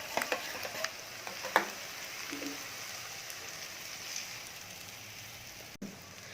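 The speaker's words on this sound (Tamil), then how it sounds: "முட்டையை கலந்து வச்சுருக்கலாம், அந்த கலையை ஊற்றிக்கலாம்." Beaten egg mixture meets a frying pan of ginger and garlic, giving a faint, steady crackling sizzle with a few light taps and clicks near the start.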